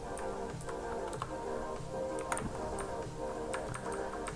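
Keyboard typing while coding Java string code in VS Code: quick, irregular clicky keystrokes run steadily throughout at moderate, close range over a faint steady hum.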